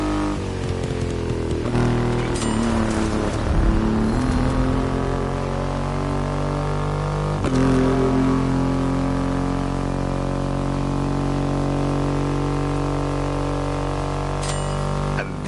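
A Triumph Rocket 3 motorcycle with a 2.5-litre engine in the racing game Motorfest, a steady, loud engine drone that holds a constant pitch throughout, with a couple of brief knocks along the way.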